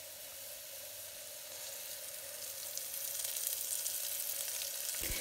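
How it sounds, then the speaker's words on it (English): Grape seeds cook in olive oil in a pan on a stove over low heat, giving a steady, soft, continuous sizzle that builds slightly, heard close with no voices. "The grape seed is going to cook on low, okay, for some minutes"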